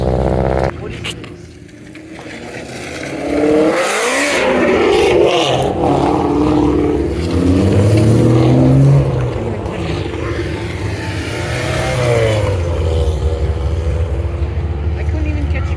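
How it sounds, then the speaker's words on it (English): A car passes at an airport car meet with a loud engine roar and a rising, sweeping revving tone, while people talk nearby throughout. "I couldn't even catch a clip of that car."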